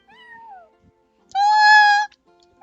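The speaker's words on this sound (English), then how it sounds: "That's my neighbor's cat." Charcoal, a neighbor's cat in a video game, gives a faint drawn-out meow and then a loud, clear meow held for about three quarters of a second.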